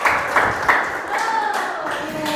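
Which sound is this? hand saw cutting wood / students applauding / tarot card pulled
students applauding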